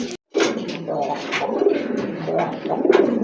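Pigeons kept for sale coo close by in repeated, throaty phrases, several overlapping calls with soft rustling between them.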